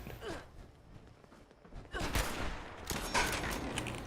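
Gunfire in Fallout 76, with a burst of rapid shots rising suddenly after a quieter stretch, fairly close and continuing in clustered volleys.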